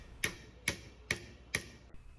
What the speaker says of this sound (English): Hammering a nail, check.